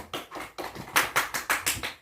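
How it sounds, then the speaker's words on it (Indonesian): Children clap together in a classroom, a run of about eight sharp synchronized claps that starts loose and settles into a steady, louder rhythm, close by with no talking. "Yuk, tepuk tangan."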